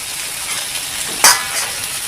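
Mutton masala frying in hot oil, a steady close hiss of sizzling with a brief louder crackling flare partway through, then settling back to an even simmering fizz, no talk.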